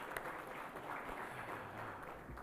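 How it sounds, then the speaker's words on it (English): Audience applause at an India Maritime Week 2025 session, a steady dense wash of clapping throughout, moderately loud and continuous. "I would love you to give a special round of applause to the Chintan team who did it."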